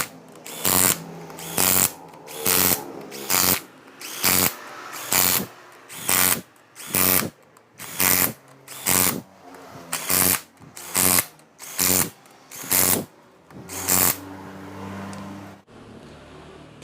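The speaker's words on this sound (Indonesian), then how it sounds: "Kita percepat rapatkan dulu dari bautnya." A ratchet wrench tightens bolts on a Panther 2.5 diesel engine during assembly, giving about a dozen loud, evenly spaced bursts of clicking close by with short pauses between strokes, and no talk.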